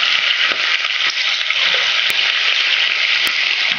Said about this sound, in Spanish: puse a calentar el aceite en fuego alto y las echo a freír